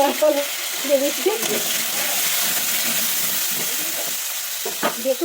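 Soybeans sizzle and crackle in a hot pan, with a few scraping stirs and brief bursts of nearby talk over the frying.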